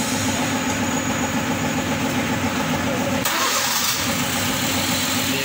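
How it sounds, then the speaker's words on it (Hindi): A 2014 Honda City car engine with a newly installed catalytic system starts and settles into a steady idle, a continuous close engine rumble with broadband noise shifting about midway, while a voice speaks over it. "गाड़ी हमारी स्टार्ट है। अभी हम आपको उसकी स्टार्टिंग चेक करवाएंगे।"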